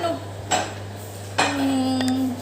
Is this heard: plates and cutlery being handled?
yes